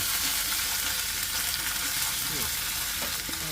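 Chopped chilies sautéing in a pan for paneer chilli, heard as a loud, steady, continuous sizzle with faint stirring scrapes and no talking.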